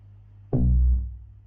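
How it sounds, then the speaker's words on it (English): A single deep bass pluck from the Fruity DX10 synth in an Amapiano beat, a short booming low note with a quick attack that swells and decays within about half a second. "First of all, this bass plug sounds like this."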